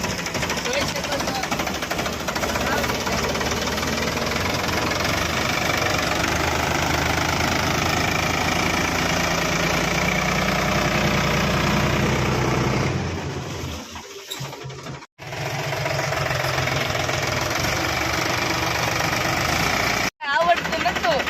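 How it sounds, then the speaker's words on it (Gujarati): A tractor engine runs steadily at a farm, a loud, continuous chugging idle that briefly dips and cuts out near the end, with voices heard over it. "તો મિત્રો આપણું ટ્રેક્ટર શરૂ થઈ ગયું છે"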